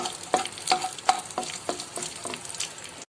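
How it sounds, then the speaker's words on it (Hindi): Food frying in a pan with a soft, steady sizzle, punctuated by about seven regular scrapes of a spoon stirring, heard close with no talking. "मैं फ्राई कर रही हूँ"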